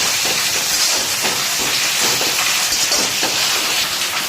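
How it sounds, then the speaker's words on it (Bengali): Chopped tomato pieces sizzle and hiss steadily while frying in a pan for chicken curry, a loud continuous crackle with faint rhythmic stirring. "এবার আমরা দিয়ে দিচ্ছি কেটে রাখা টমেটোর টুকরোগুলো, দিয়ে তার সাথে ভালো করে এবার আমাদেরকে কষতে হবে।"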